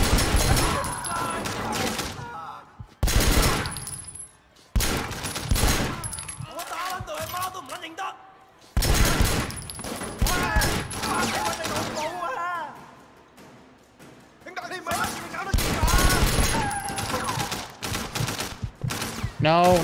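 Gunfire in the Sleeping Dogs video game: repeated loud bursts of shots in clusters separated by brief pauses, with a voice talking over parts of the action.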